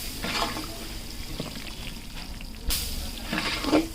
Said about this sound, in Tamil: தண்ணி எடுத்து லைட்டாக தெளிக்கலாம்.